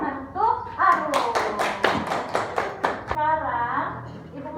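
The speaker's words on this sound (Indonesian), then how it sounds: "Tepuk tangan untuk Arum" Children in a primary school classroom break into a short burst of applause, about a dozen sharp claps in quick rhythm, close and fairly loud, with a teacher's voice speaking before and after.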